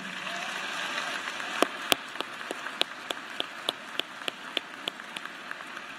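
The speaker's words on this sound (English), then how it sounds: "Give them a round of applause and thank them for supporting you." During an Auburn University spring graduation ceremony, sharp, distinct handclaps ring out in a slow, regular rhythm over a soft, hissing background, sounding like a few nearby people clapping rather than a full crowd.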